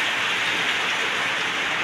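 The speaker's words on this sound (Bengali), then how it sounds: "কাল বৈশাখী বৃষ্টি শুরু হয়েছে, জোরো হাওয়া বৃষ্টি।" Heavy Kalbaishakhi storm rain pours down steadily with strong wind, a dense, loud, unbroken hiss of water without pauses.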